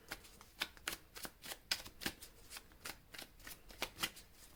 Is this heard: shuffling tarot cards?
yes